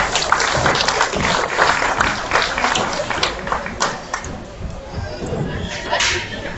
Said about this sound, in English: Let's go ahead and give that first class a big round of applause